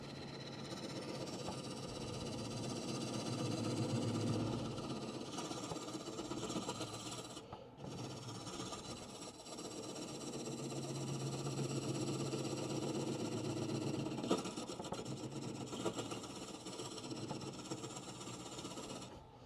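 A wood lathe turns the outside of a bowl at a woodworkers guild meeting, a continuous rasping scrape of a gouge on spinning wood over a steady motor hum, with a brief break midway.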